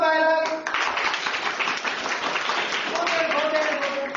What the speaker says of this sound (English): Please clap for Bailal.